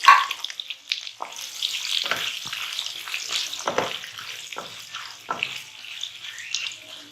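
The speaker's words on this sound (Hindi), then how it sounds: "अब हमने ये प्याज इसमें शामिल कर देनी है।" Sliced onions crackle and sizzle as they fry over a medium flame in a pan of oil for vegetable ishtu, with a sharp burst at the start, then a steady hiss broken by scattered pops and spatters.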